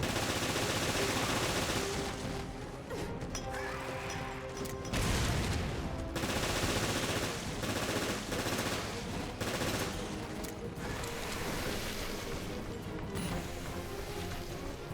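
Handgun and machine gun fire with a piercing boost in the video game Resident Evil Revelations, dense rapid bursts of shots continuing steadily through the whole stretch at moderate loudness, with a few heavier impacts.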